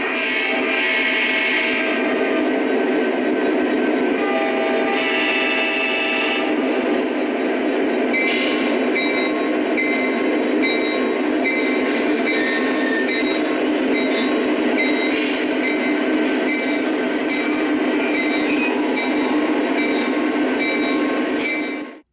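EMD SD60 and SD70 Max locomotives running together at a train show, a loud continuous diesel engine rumble and drone with steady tonal whine, close and alone throughout.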